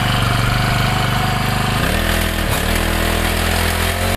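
A two-stroke brush cutter engine runs steadily after starting, a loud, close, continuous buzzing drone that dips briefly in pitch partway through and then settles back to an even idle, with no talking.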